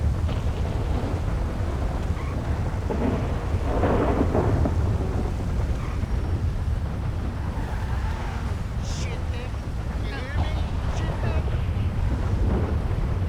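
Loud, continuous rumbling thunder from lightning mixed with blustery wind and rain noise, dense and roaring throughout with a few sharper crackles midway.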